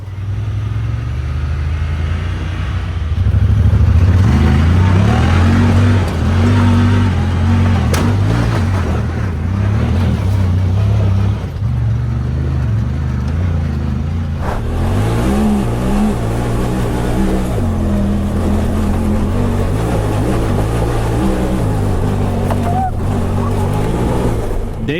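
Honda Talon 1000R-4 side-by-side driving, its engine droning loud and close with shifting revs and gear changes for the whole stretch, while a voice talks over it.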